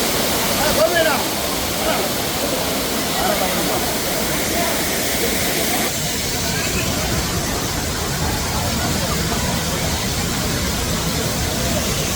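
Heavy water pouring down at Courtallam waterfall, a steady loud roar and splash that fills the whole stretch without pause.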